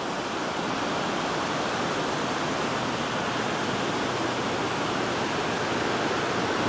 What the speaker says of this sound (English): The river down below, you can hear it.